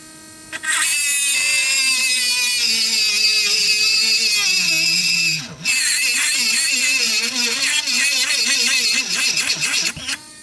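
A power drill with a drill bit boring into material during work on a station wagon, a loud steady whine that shifts pitch as the load changes, briefly cutting out midway before resuming.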